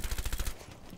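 Gunfire in the tactical shooter game Rainbow Six Siege: a rapid automatic burst of about eight shots over half a second, fairly loud, then a low fading tail, with no speech.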